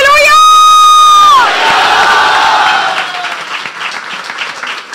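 A sustained tone fades into applause and cheering from a church congregation at a Resurrection Day service, the clapping loud at first and gradually thinning toward the end.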